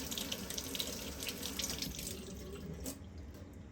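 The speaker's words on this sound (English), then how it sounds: "Okay, I'm gonna rinse them off." Fresh roses being rinsed under a running kitchen tap, a steady close splashing hiss of water that stays level and then thins slightly toward the end.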